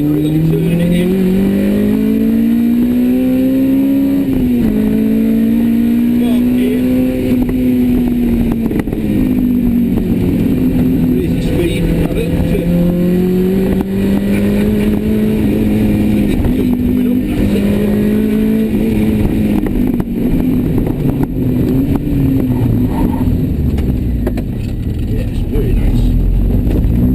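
A GTM Rossa fitted with a 2.0 Honda Type R VTEC engine drives on a road in third gear, its engine note rising and falling as the throttle is eased on and off, loud and continuous.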